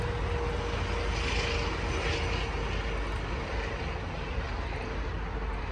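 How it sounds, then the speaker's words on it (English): A helicopter flies overhead out of sight behind trees in a yard, a steady broadband engine and rotor drone holding at even loudness throughout with no talk. "Helicopter."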